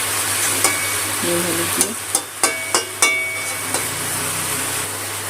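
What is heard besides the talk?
stirring snake gourd frying in a pan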